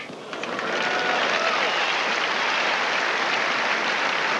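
US Open tennis crowd at a 1995 quarterfinal applauding, a dense sustained roar of clapping that swells in over the first half second and holds steady and loud throughout.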